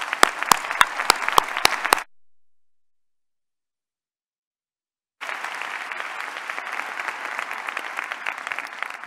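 Applause from the audience at a graduation diploma ceremony: a couple of seconds of clapping with a few sharp claps, a silent gap, then sustained, even applause from a large crowd.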